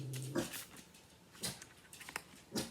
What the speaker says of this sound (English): I know Roger the kitty cat's out there, but you don't have to bark at him.